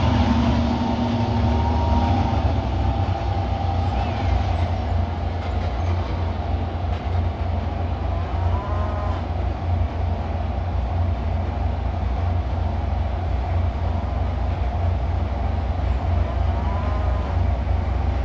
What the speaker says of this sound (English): This locomotive stops quite well, so no problems there.